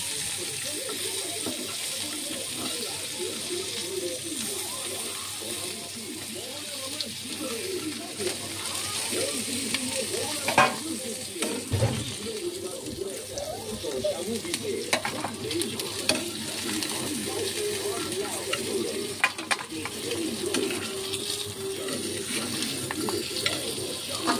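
Crabs fry in hot oil with a continuous loud sizzle, stirred now and then with scraping clatter, while a voice talks underneath.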